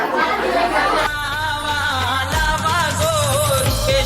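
Crowd chatter fills a morning haldi wedding ceremony in a Koli fishing village, a dense, steady murmur of many voices close around with tonal music or singing running through it.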